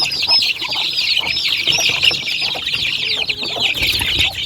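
Chicks being fed Madre de Agua leaves chirp and cheep continuously in a busy, close chorus of high peeps, with soft clucking mixed in.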